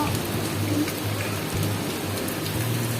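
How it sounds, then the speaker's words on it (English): Heavy rain pours steadily onto a terrace, a dense continuous hiss with faint low rumbles, constant in loudness and with no voices. "The rain has started suddenly guys."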